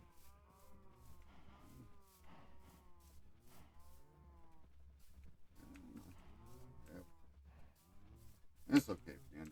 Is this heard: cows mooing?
yes